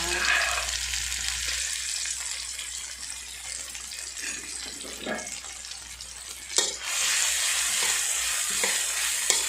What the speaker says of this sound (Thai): น้ำมันร้อนแล้วเราก็ใส่นี่เลยค่ะ เครื่องกะเพรานะคะ